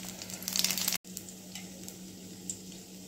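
Nigella seeds and green chillies sizzle in hot mustard oil in a pan, a steady close frying hiss that surges briefly, cuts out for an instant, then carries on evenly.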